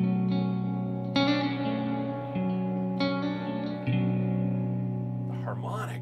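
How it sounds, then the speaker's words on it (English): Electric guitar played through a Two Rock Joey Landreth amp with reverb, several clean sustained chords struck one after another, each ringing out with a long reverberant tail, close and clear, with a brief voice at the end. "A reverb, listen to that."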